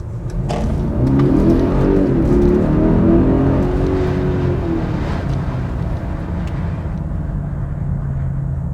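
A 2020 Mercedes-AMG GLS 580 with its petrol engine accelerating hard, a steady rising engine drone heard from inside, loud and continuous with no talk.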